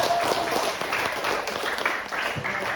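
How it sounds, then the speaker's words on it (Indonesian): Clapping from a classroom group after a student presentation, a moderate, blurred patter of hands over room noise, fairly steady and not very loud. "kita tepuk tangan dulu untuk kelompok dua"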